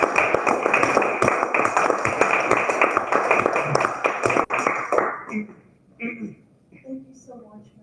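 Round of applause for contest winners at a Toastmasters meeting: loud, dense clapping from a room of people for about five seconds, then it stops abruptly, leaving a few scattered sounds and brief talk.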